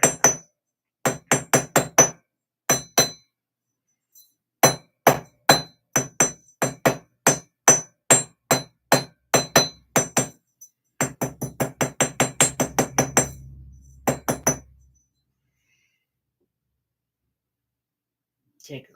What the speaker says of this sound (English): And now we hammer it.